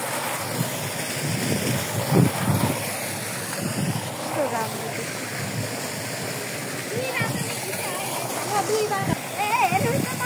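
Water rushes over a waterfall at Coco Beach in Pokhara with a steady, broad roar that fills the whole scene, while voices talk over it now and then.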